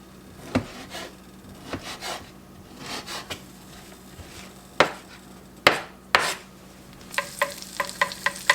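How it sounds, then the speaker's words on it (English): A knife chops chipped beef on a cutting board, with a few sharp, spaced knocks followed by a quicker burst of close taps near the end, over soft kitchen background noise. "there's really no rhyme or reason to how you cut it up"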